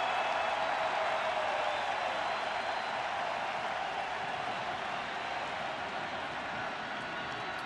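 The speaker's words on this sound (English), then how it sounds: "the crowd is finally in full throat." Stadium crowd at Game 7 of the 2016 World Series between the Cubs and Indians roars in a dense, sustained wash of cheering and applause, steady and loud throughout with no distinct voices standing out.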